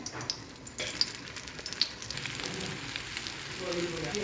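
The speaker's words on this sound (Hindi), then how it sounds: "अब मैं अंडा लगा के कबाब शामी कबाब को फ्राई करूँगी। इनको लो टू मीडियम फ्लेम पे फ्राई करना है।" Egg-coated mutton shami kababs frying in a pan over a low to medium flame, giving a steady, gentle crackling sizzle with a few faint clicks, close and moderately quiet, with no voices.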